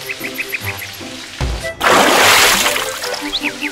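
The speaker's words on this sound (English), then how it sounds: "Okay, let's water it." Water is poured onto a cherry tomato plant, a loud splashing gush that starts abruptly and runs for a couple of seconds, set between lighter music-like tones.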